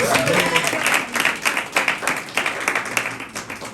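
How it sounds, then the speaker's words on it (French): A church congregation claps for visitors at a service. The applause is steady and fairly close, with dense hand claps that swell and then thin out over a few seconds. "Est-ce qu'on peut applaudir pour les visiteurs ce matin?"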